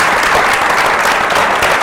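An audience applauds at a recognition event, with dense, steady clapping filling the whole stretch at close range and no voices above it.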